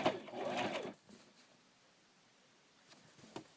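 A sewing machine stitches an X on bias tape with a short, close burst of rapid whirring, then falls quiet apart from faint rustling and a brief later stitch.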